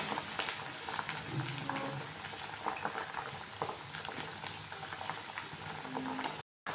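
Hibiscus flowers, rose and mint leaves cook in oil for a homemade tribal hair oil, giving a continuous bubbling sizzle with scattered pops and a brief cut to silence near the end.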